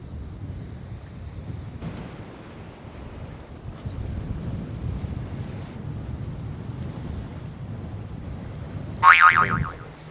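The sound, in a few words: strong wind at the beach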